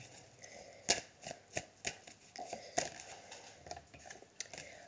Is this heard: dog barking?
no